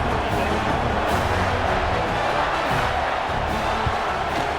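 Stadium crowd in a college football video game, Bowling Green at Nebraska, roars steadily and densely as a kickoff approaches late in a tied game, a continuous wall of cheering with no gaps.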